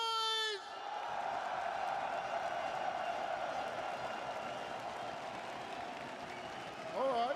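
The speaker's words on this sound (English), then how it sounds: "So if you're a FaZe fan, make some noise!" A FaZe fan section in an esports arena crowd at a Valorant event roars and cheers in a sustained, broad wash of noise, bracketed by brief tonal sounds at the start and end.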